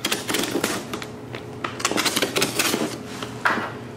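Cardboard wrapping on a firework cake is cut open up close, giving a dense run of crisp scraping, tearing and clicking sounds over about four seconds, with no talking.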